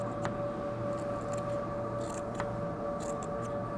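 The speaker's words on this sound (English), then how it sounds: "I'm going to cut it up just a little bit more. I want more fiber." Scissors snip fiberglass fiber into short bits for an epoxy filler, a few quiet, close crisp cuts spaced irregularly over a low steady hum, with no talking.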